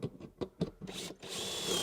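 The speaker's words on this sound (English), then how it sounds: "now what I can do is drill the next hole" A power drill bores shelf pin holes through a wooden cabinet side guided by a shelf pin jig, a few short whirring bursts followed by a longer steady whine as the bit cuts into the wood, close and clear.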